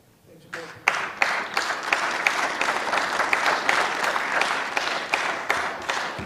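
An audience at a closing conference session breaks into applause, starting sparse and quickly swelling into dense, steady clapping that carries on evenly to the end.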